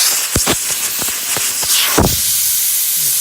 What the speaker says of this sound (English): I usually take my air nozzle and blow all the sand out of it afterwards.